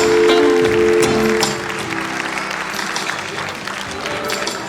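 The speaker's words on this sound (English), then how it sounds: "your applause should not stop" An audience claps at a school annual day, loud and full at first, then thinning into a softer, steadier patter of many hands, with a sustained musical tone fading out early on.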